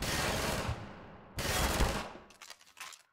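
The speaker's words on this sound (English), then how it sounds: "Who's shooting me from where?" Gunfire aimed at the player in the video game Half-Life 2: two long, dense stretches of rapid automatic shooting, loud and close, broken by a brief pause and then trailing into scattered separate shots.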